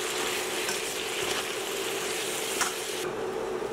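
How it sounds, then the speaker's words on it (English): Vegetables and shrimp stir-fry in a pan seasoned with soy sauce, salt and pepper, giving a steady, loud sizzle with faint scraping of stirring throughout. "I'm going to give it a stir."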